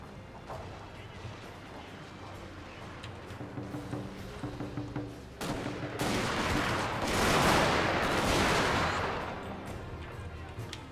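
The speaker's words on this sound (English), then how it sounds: "I believe we'll just shoot them a little bit here." Troops firing volleys in the video game Total War: Shogun 2, Fall of the Samurai, during a siege: scattered shots build into a dense, loud crackle of massed gunfire, with game music and a voice underneath.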